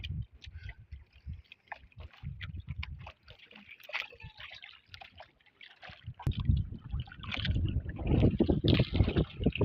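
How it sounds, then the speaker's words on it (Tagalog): Gusty wind buffets the microphone in irregular bursts while water sloshes and splashes nearby, growing rougher and louder toward the end. "Habang tumataas yung araw mga idol, lalong malakas yung hangin at saka alon."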